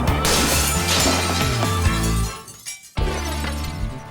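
A pane of glass hurled at tornado speed bursts into a loud, sustained shatter, a crash followed by a brief lull and then a second burst of breaking, tinkling fragments.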